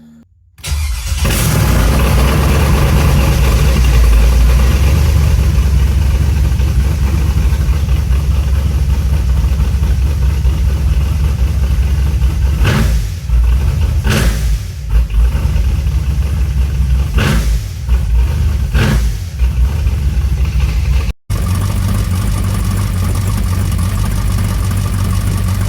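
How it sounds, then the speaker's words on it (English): An LS-swapped 1987 El Camino V8 fires up and runs on open headers, a loud, close, continuous rumbling idle with several brief revs partway through, then a sudden cut before the engine sound resumes. "we're gonna fire it up, open headers. Should be fun, should be loud."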